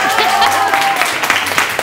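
Studio audience applause welcoming a guest on a Spanish TV show, a burst of clapping mixed with crowd noise and a host's voice talking over it.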